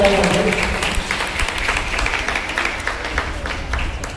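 An audience at an inter-class solo dance competition applauds a solo performance with steady, fairly loud clapping from a crowd that fades slightly toward the end.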